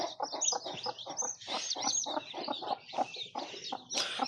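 Day-old native chicks in a brooder keep up a rapid stream of high, clear peeps, closely spaced and overlapping, near and fairly quiet with no voices.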